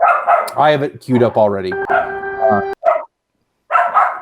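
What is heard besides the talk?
dogs barking in the background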